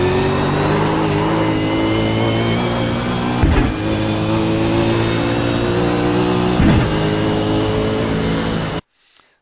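A V8 race car in a racing video game at Watkins Glen drones loudly at steady high revs, with two brief gear-shift dips before the engine note cuts out abruptly near the end.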